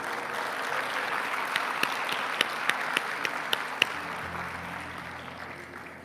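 Audience applause at an award ceremony honouring shortlisted candidates, a moderate, fairly distant patter of clapping with a few sharper individual claps standing out before it fades away.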